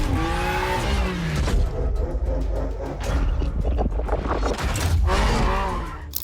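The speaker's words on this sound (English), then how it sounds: "The engine starts alive with energy" A BMW M car engine revs and roars loudly throughout, its pitch rising and falling with acceleration, close and continuous.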